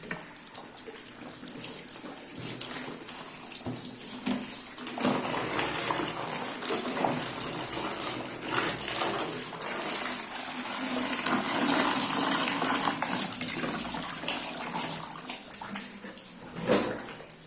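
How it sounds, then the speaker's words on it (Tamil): Running water pours steadily from a tap, a continuous close gush that swells slightly midway, with a few faint clinks and no speech. "கொஞ்சம் தண்ணி பிடிச்சி"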